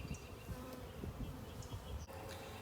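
Honey bees buzz inside a hive while nurse bees are added to help warm a drone-laying colony, a dense, steady close-up hum with no talking.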